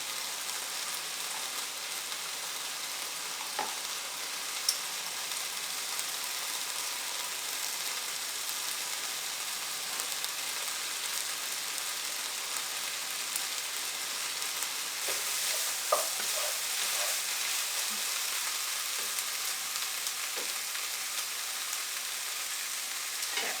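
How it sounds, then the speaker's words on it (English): Garlic sizzles steadily in a hot frying pan with cooked vegetables while being stirred, with occasional scrapes and clicks of the utensil against the pan; a close, continuous frying hiss with no talking. "now we're going to go ahead and add our garlic"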